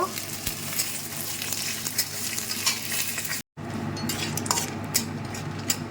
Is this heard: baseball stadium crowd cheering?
no